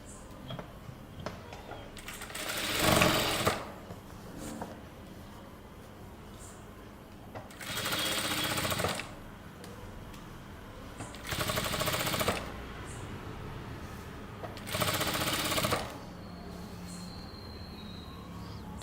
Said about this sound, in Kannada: ಫೇಸ್ ಆನ್ ಫೇಸ್ ಇಟ್ಕೊಂಡು ಸ್ಟಿಚಿಂಗ್ ಸ್ಟಾರ್ಟ್ ಮಾಡಬೇಕು.